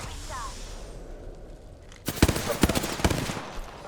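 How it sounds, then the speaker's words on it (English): Rapid gunfire aimed at the player in a video game, a dense rattle of automatic shots that breaks in suddenly after a quieter stretch and runs to the end, loud and close over a steady background hum. "Listen up, I'm getting shot at."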